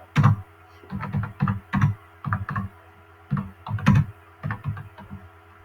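Computer keyboard typing on a PC, a run of distinct key clicks in irregular bursts, close and fairly loud with no talking.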